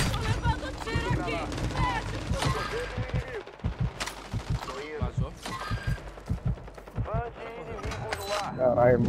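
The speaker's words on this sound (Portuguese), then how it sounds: "Tô levando tiro aqui." Gunfire in the video game Warzone 2.0 rattles in bursts and single sharp cracks, loud and close, mixed with game sound effects while a player talks over it throughout.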